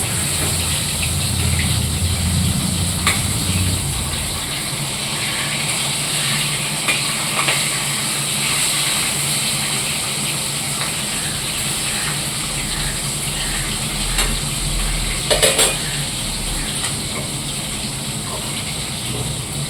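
Pointed gourd and rice frying in oil in a wok, a steady loud hiss and sizzle with occasional sharp scraping clinks from a utensil.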